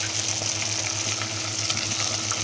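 Spinach cooking in a pot with garlic gives a steady, close sizzle and frying crackle over a low hum, with faint stirring scrapes and no voices.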